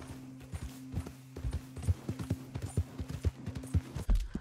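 Horse hooves clip-clopping at a steady riding gait in the game Red Dead Redemption 2, a close, regular series of hollow knocks over a low sustained hum, ending in a heavier thud.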